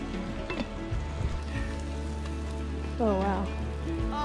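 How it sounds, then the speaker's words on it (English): Food sizzles steadily in a hot pan over a campfire, a constant crackling hiss, while voices talk over it. "Sizzling."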